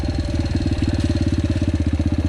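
A Yamaha TTR 125L motorcycle's single-cylinder engine runs close by at a steady idle, a loud, rapid, even thumping pulse throughout.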